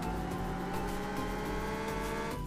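A car in Car For Sale Simulator 2023 drives at speed, its engine a steady, loud drone that holds without a break throughout, with no voices.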